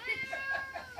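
A cat meows close by in a brief, drawn-out whining cry that wavers up and down over about a second, faint and alone.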